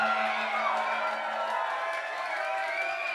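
A concert crowd cheers and whoops continuously at a hip-hop show, a dense roar of voices with no break.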